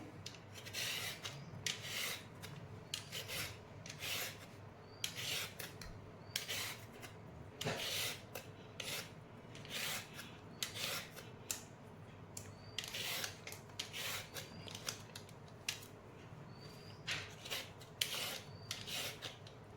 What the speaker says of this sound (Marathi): या गाजरांना मी सर्वप्रथम सोलून घेणार आहे।